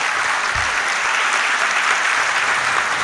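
A loud, dense burst of audience clapping fills a hall at a Panchgavya convention in Dwarka, many hands beating continuously at close range with no pause.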